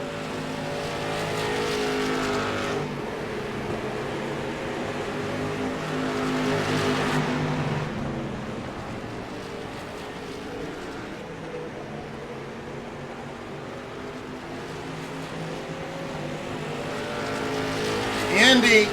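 Street stock race cars roar around a short oval bullring track, engines droning and swelling as the pack passes, a continuous loud rumble with rising and falling waves of engine noise.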